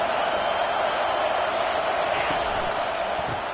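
Stadium crowd at a football game roaring for the defense on third down, a dense, steady wall of cheering and noise that holds at full volume throughout.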